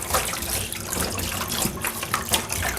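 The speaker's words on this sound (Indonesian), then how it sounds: "Nah, ini dicuci lagi pakai garam, teman-teman. Bolak-balik cuci pakai garam." Food being washed by hand in salted water in a home kitchen, a continuous close splashing and sloshing with bursts of rinsing water, heard alone without talk.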